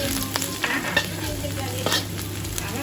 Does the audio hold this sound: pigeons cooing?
no